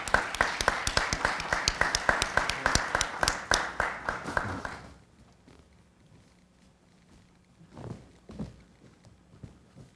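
A small audience at a family mediation forum claps warmly to welcome a speaker, distinct rhythmic hand claps for about five seconds that stop abruptly, followed by quiet room noise and faint shuffling.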